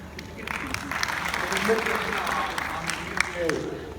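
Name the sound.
audience applause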